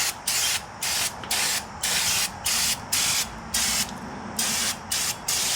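Repeated bursts of aerosol brake cleaner sprayed onto the emergency brake parts of a 2006 Honda CR-V, about a dozen short hisses in a steady rhythm, close and loud.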